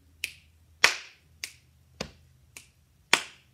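Six crisp finger snaps in a body percussion pattern, practised in a third grade music lesson, ring out alone and evenly spaced with short gaps, each one sharp and close, with quiet between them.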